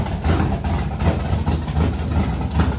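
A truck engine idles close by with a loud, low, steady rumble that pulses in a regular rhythm, no voices over it.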